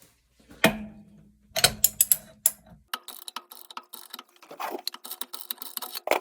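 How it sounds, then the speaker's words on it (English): Socket wrench with a pipe extension ratcheting to loosen an old water heater anode rod, a low clunk followed by bursts of rapid metallic clicks, close and fairly quiet. "End up putting a pipe on this socket wrench to help get a little leverage."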